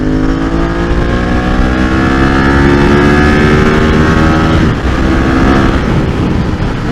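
A 29-year-old Ducati 916 motorcycle engine roars loudly and steadily while being ridden on the road. Its pitch climbs and falls across the gear changes, with a brief dip partway through, and nobody speaks.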